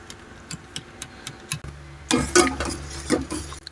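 Flour and cornstarch slurry stirred into homemade gravy: a spoon taps lightly against a bowl in a quick ticking rhythm, then a louder spell of scraping and clinking over a low hum.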